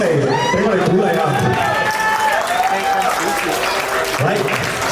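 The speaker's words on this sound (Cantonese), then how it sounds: "全場嘅朋友有冇掌聲嚟俾我哋鼓勵啊？" Guests at a wedding reception applaud in a steady, dense wash of clapping, with a loud voice speaking over it through a sound system.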